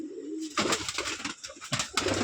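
White homing pigeons of the Rajshahi Giribaj breed cooing close by in a room loft, several soft throaty coos overlapping in bursts with brief pauses, and no talk.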